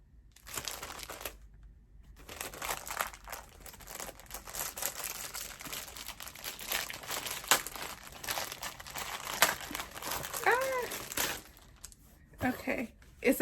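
Crinkly paper packaging on a box item is unwrapped and torn open, with sustained loud crackling and rustling in bursts, plus a few short pauses.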